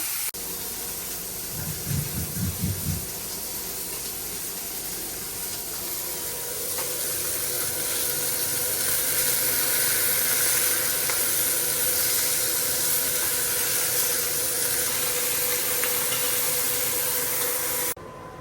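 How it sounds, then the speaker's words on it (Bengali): Pointed gourd sizzling and frying in hot oil alongside poa fish, a steady loud hiss and crackle that holds throughout and swells slightly partway through, with a few low clunks near the start. "তারপরে এই যে পটলটা দিয়ে সুন্দর করে কষায় মাখা মাখা করে রান্না করব"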